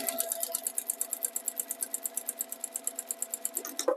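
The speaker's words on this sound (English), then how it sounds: "I'm just sewing my 3rd strip on" Close up, a sewing machine stitches fabric binding strips together for a cut-out edge whole-cloth table runner, making a fast, steady, evenly spaced mechanical clatter with a faint hum underneath, and it stops at the end.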